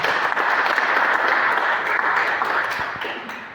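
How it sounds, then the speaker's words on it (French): Steady, loud applause from an audience at a career and orientation fair, dense clapping sustained throughout and tapering slightly at the end. "Je voudrais qu'on applaudisse très fort pour ça."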